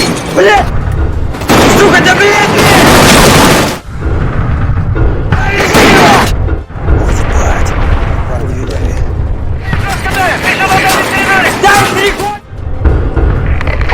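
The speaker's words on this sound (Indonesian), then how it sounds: "langsung melepaskan tembakan, sehingga kontak senjata pun kembali terjadi." Heavy gunfire and booming blasts come in loud repeated bursts, with shouting voices mixed into the chaos, in the video game Escape from Tarkov.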